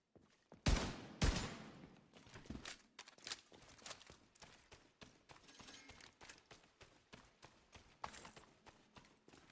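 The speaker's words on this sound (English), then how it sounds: "Damn, this pistol hits hard as hell." Rapid pistol shots in The Division 2 crack out in quick bursts, a loud double report near the start followed by a steady rhythmic string of lighter sharp hits throughout.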